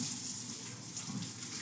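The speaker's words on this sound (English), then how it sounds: "First thing, I'm going to wash my hands." A kitchen tap runs while someone washes their hands, producing a steady, fairly faint gush of water that continues unbroken with no talk.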